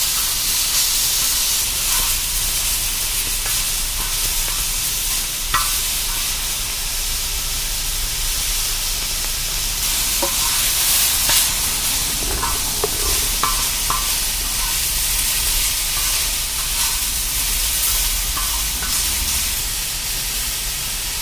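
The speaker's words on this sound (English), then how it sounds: "now that beef's got a pretty decent sear on it" Beef sears on a FireDisc steel cooker, producing a loud, unbroken hissing sizzle that holds steady throughout, with occasional faint metallic scrapes.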